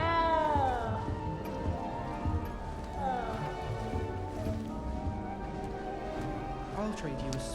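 A cat in the Hogwarts Legacy video game meows repeatedly, with several drawn-out, rising and falling cries spread across the stretch over a low background bed of game ambience.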